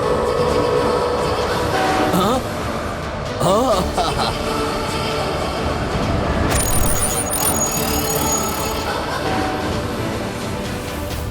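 A train rumbles steadily with rolling wagon noise and a horn blast sounding over it, set in a desert scene, while voices talk throughout.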